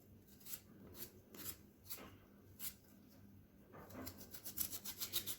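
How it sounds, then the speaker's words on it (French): Scraping strokes of a peeler taking the skin off a large raw potato, a steady series of short rasping passes, close and fairly quiet, growing quicker toward the end, with no talking. "je vais éplucher ma pomme de terre"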